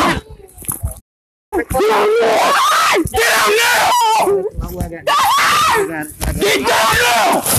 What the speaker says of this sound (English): She's screaming in pain, telling marshals that they're breaking her arm.